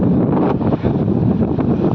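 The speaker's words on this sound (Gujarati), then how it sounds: "જેમ મોટા ડેમમાં જતું હોય એમ તાપી નદીમાં પાણી જાય છે" Floodwater from the swollen Tapi river surges past after heavy upstream rain, a loud, steady broadband roar with gusty rumble, recorded close by with no voices.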